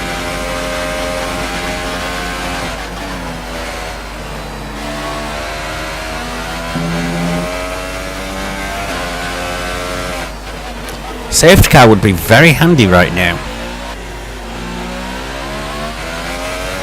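An F1 car's engine in the F1 2018 racing game whines steadily with rising and falling pitch through gear changes, plus a brief harsher snarl midway. Someone talks over it.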